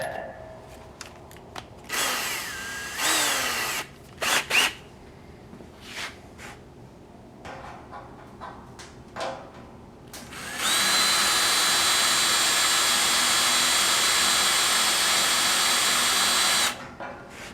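A metal-cutting step bit drills through a brewing kettle, first in a few short stop-start bursts, then in one sustained, loud whine lasting several seconds before stopping.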